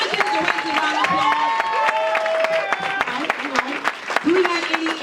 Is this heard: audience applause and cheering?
yes